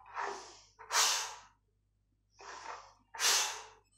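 Forceful breaths in a Hatha yoga exercise, in two paired cycles: a softer breath followed by a sharper, louder rush of air, close to the microphone, with near-silence between pairs and no talking.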